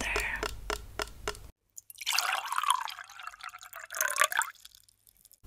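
Hot water poured into a container in a close-up ASMR setting, a bubbling, gurgling pour in two bursts after a few soft taps, quiet and near.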